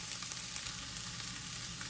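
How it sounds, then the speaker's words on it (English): Steady, dense sizzling of ground chicken frying in hot grapeseed oil, continuous and close, with no voices. "I already started frying it, you probably hear it."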